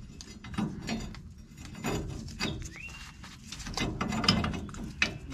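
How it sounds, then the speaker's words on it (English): A ratchet tightens the rear differential bracket nuts on a 1989 Chevy K1500 pickup during a helper spring install, giving soft, uneven clicking in a garage with a faint bird call in the background. "These nuts get torqued to 81 foot-pounds."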